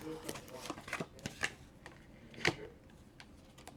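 Tarot cards are shuffled in quick, crisp riffles and slaps, close and moderately quiet, with a voice speaking softly in the background.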